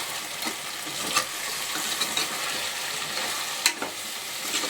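Chicken curry sizzles steadily in a pan as it is stirred, with occasional sharp scrapes and clinks of the spoon over the continuous frying hiss; no one speaks.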